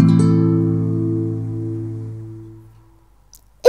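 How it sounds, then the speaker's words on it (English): A strummed guitar chord from a Daniel Tiger's Neighborhood Christmas video game rings out warm and full, then slowly fades over a few seconds until near silence, with no voices. "Guitar."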